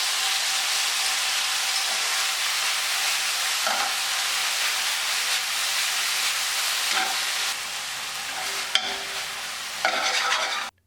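Sauce sizzling in a hot pan with blistered shishito peppers and garlic, a steady loud hiss with occasional stirring scrapes throughout and no talking.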